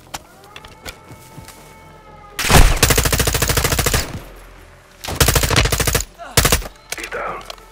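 Rapid automatic gunfire in the Call of Duty Modern Warfare II campaign, fired while shooting down an enemy: a long sustained burst, then two shorter bursts, loud and close, with quieter game sounds in between.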